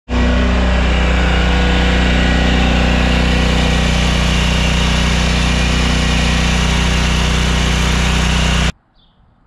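Lawn mower engine running flat out at full throttle, a loud, steady, close drone held for about nine seconds before it cuts off abruptly into near silence.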